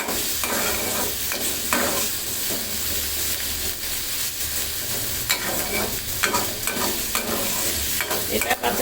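Chicken with ginger and garlic frying in a pan while a spoon stirs it, a loud continuous sizzle broken by repeated scraping strokes, close up and without voices.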